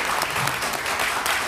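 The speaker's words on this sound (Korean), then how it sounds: "여기 참석하신 분들 모두를 위해서 박수 한번 보내주시기 바랍니다" Steady applause from attendees at the close of a press conference, dense continuous clapping filling the short stretch at moderate level with no talk over it.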